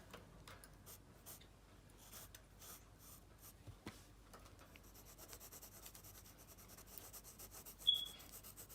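A pencil drawing of a realistic eye is lightly erased, giving soft, faint, intermittent scratchy rubbing strokes close by, with no talking.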